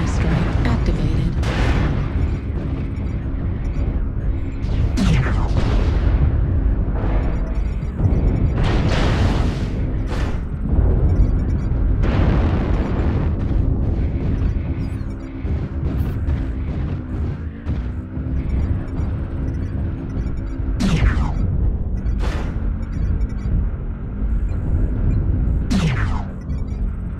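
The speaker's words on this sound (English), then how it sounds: "Artillery strike activated." Artillery strike explosions in a video game, a series of loud booming impacts repeating irregularly over about half a minute against continuous heavy rumbling battle noise.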